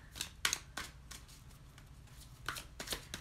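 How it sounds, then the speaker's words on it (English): A deck of oracle cards is shuffled by hand, giving several quiet, crisp riffling bursts separated by short pauses, close and alone. "I just like shuffle these until a card falls out"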